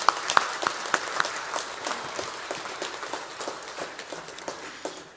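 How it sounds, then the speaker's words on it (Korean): A church congregation claps together in a sanctuary during Sunday worship, a sustained patter of many hands with a few sharp, nearer claps standing out at the start. "우리 주님께 영광의 박수 올려드리겠습니다"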